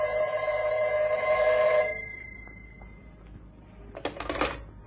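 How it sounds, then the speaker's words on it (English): An office telephone rings with a steady, loud electric bell tone for about two seconds, then falls quiet, followed by a fainter clatter as the receiver is picked up. "the phone rang"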